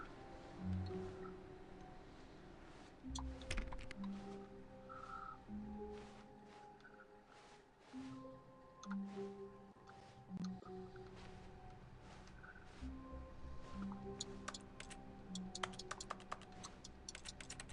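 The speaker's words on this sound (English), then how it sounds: "Why does pressing the A button make me do a typewriter thing?" Typewriter-like clacks from pressing the A button in The Stanley Parable video game come in scattered bursts of crisp, quiet keystrokes, irregular in rhythm and set against soft background tones.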